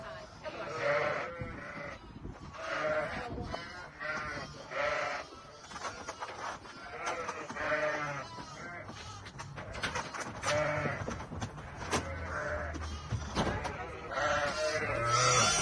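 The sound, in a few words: ewes in a shed being loaded into a trailer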